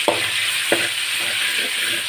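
Ginger garlic paste frying in a pan, with a continuous hissing sizzle and a few sharp spoon scrapes from stirring, close and alone.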